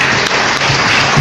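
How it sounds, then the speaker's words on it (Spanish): A church congregation claps together in a dense, loud burst of steady applause, heard close for a brief moment. "Un aplauso al Señor."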